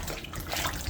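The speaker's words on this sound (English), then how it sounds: "I'm just washing the fruits." Fruit being washed under running tap water in a home kitchen, a brief steady rush and splash of water, close and fairly loud.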